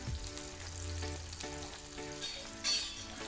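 Curry leaves sautéing in a pan with turmeric, a soft steady sizzle with a few scrapes and a sharp clink near the end, quiet and close.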